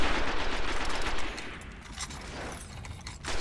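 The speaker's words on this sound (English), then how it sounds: "This is why I love machine guns." Machine gun fire in a shooting video game crackles in a dense, continuous burst at the start, then thins into scattered loud shots and bangs that stay close and prominent throughout.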